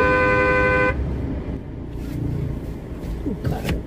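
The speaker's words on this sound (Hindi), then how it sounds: "पीछे तो कोई नहीं, हॉर्न कौन मार रहा है" A car horn blares a steady harmonic honk for about a second at close range, then cuts off, leaving quiet road ambience with faint movement and a few soft knocks.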